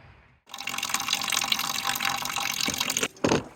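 Old coolant pours from a car during a coolant flush, a steady gushing splash of liquid that starts abruptly, runs for a few seconds, then cuts off before a final brief burst.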